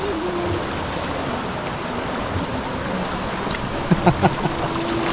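River water rushes steadily near a cave at Barangay Bayabas, Doña Remedios Trinidad, Bulacan, a broad, continuous flowing noise during a crossing, with a few splashes and faint voices in the background.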